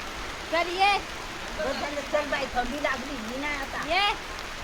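Steady summer rain in Konkan hisses in the background while children's voices chant and call over it.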